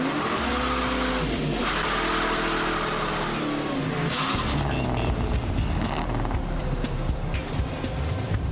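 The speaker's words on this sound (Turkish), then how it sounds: "Clint'in ardından Danny de lastik yakmalarından çıkıyor." A 1965 Chevrolet and a rival drag car do tire burnouts at a drag race, with loud sustained tire squeal over roaring, revving engines throughout.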